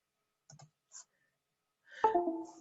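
A computer mouse clicks a few times in near silence while a selection is made in Photoshop, with sharp, sparse clicks followed by a louder, ringing tone at the end.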